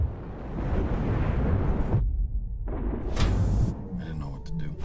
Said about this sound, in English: The explosion blasted open the hull.